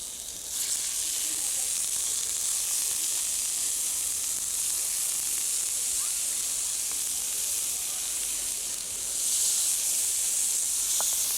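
Scallops with a small drop of oil sizzling steadily on a hot plancha, a constant close hiss of frying that holds level throughout and swells slightly near the end.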